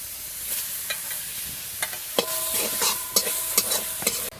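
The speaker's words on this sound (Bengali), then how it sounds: "এবার আমি নারকেলটা ভেজে নেব" Grated coconut fries in a pan while a spoon stirs it, giving a steady soft sizzle broken by sharp scraping clicks and knocks of the utensil against the pan.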